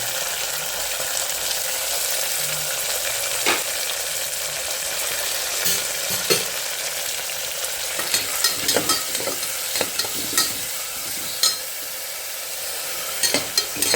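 Ground mint paste and chopped tomato frying in a pan, with a steady sizzle and bursts of spatula stirring and scraping that grow busier toward the end.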